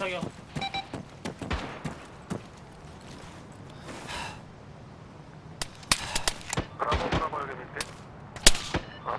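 Gunfire aimed at a bunker in the video game ARMA 3: sharp, loud shots crack out irregularly, thickening into a denser cluster near the end, with people talking over the shooting.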